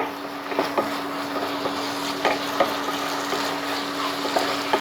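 Chicken frying in a pan as pizza and taco filling, a steady close sizzle with occasional stirring scrapes and clicks, no voices.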